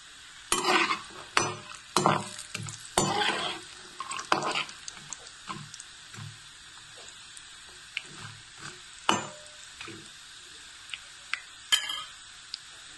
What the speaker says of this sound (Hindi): सबसे पहले मैं नारियल को फ्राई करती हूँ, अखरोट,